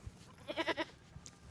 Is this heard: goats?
yes